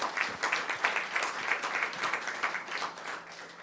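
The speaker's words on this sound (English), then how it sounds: "How about an applause for that?" Applause from the audience at a Yakima school district board meeting, a moderate, continuous patter of many hands clapping in a fairly even rhythm, without talk over it.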